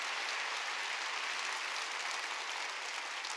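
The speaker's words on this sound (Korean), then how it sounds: "깨달아서 박수를 세게 치라고" Congregation in a church Sunday worship service clapping loudly and steadily, a dense wash of applause filling the room without pause.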